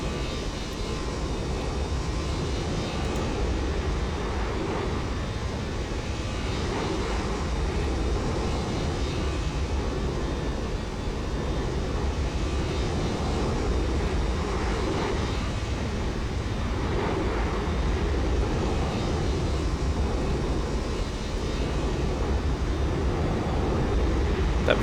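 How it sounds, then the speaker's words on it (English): Steady, unbroken jet engine roar from a Boeing 727 in a flight simulator game, a broad even drone that holds at a constant level throughout with no talk over it. "That sounds like a proper jet plane."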